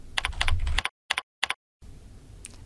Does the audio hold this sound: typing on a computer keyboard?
yes